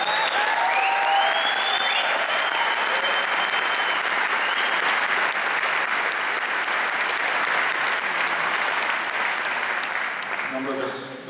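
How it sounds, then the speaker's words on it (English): Sustained, loud audience applause at a pipe band concert in a concert hall, a full crowd clapping steadily for about ten seconds before thinning out at the end. "Another round of applause for our chief guest."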